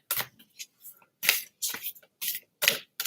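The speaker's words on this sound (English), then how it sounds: "Let me give this a good shuffle." Tarot cards are shuffled in several quick bursts of riffling and slapping, close by, with short pauses between.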